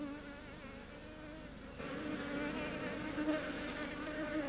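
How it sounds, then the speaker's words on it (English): A swarm of Hormuz bees resting in tree shade in a salt valley, buzzing as a dense, steady drone that swells slightly louder halfway through, with no voices over it. "Bees swarm when a queen and her colony are on the move."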